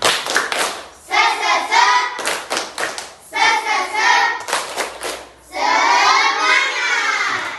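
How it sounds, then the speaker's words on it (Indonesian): A classroom of children performs a rhythmic spirit clap, loud patterned bursts of clapping alternating with shouted chanting voices in call-and-response sections, close and energetic. "Tepuk semangat."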